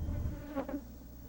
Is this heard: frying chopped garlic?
no